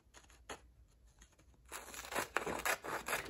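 Scissors cutting paper for a mixed-media art journal, soft crinkling and snipping close by, quiet at first and then busier and louder toward the end.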